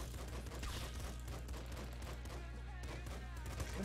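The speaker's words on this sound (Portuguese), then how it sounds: "eu só tô andando e atirando que nem louco" Rapid gunfire rattles nonstop as a player runs and shoots in a first-person shooter video game, dense overlapping shots layered over a steady low game hum, with faint background noise from the game.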